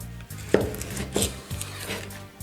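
A knife cuts through a dragon fruit on a board, making about three distinct firm chopping knocks spaced out over a couple of seconds, close and fairly quiet, with no talking.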